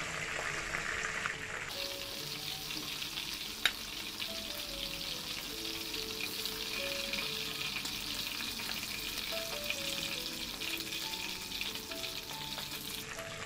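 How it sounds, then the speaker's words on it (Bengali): Chicken pieces pan-fried in batches for a spicy masala fried chicken give off a steady, dense sizzle of hot oil that holds evenly from start to finish, close and continuous with no voices. "ঠিক এইভাবে আমি সবগুলো চিকেন ভেজে নেব"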